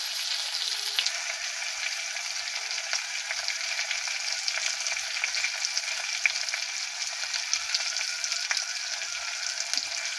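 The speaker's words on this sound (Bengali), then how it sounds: "দিয়ে চিংড়ি মাছটা হালকা করে ভেজে নেবো আমরা" Shrimp fries gently over a low flame in a pan, a close, even sizzle with fine popping crackles running on without pause and no one talking.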